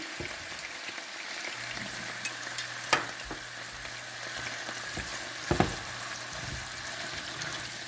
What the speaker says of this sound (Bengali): একটু নেড়ে চেড়ে দিতে হবে।